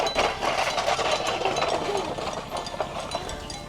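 A homemade village vehicle built from a farm engine runs with a rough, chugging mechanical rattle and irregular knocks, close by, while someone talks over it.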